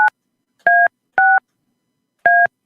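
Four clean telephone keypad dialing tones beep in an irregular sequence, close and loud, each a short steady two-pitch burst with gaps between presses while calling a phone.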